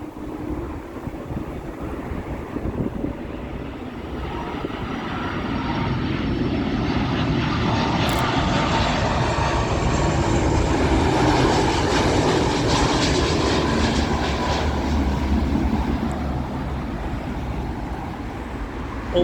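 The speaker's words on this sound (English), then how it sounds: "This is their A330 service from Shanghai." A China Eastern Airbus A330 lands at Heathrow Airport, its engine roar and rushing wind building steadily to a loud peak before easing slightly, with no one talking.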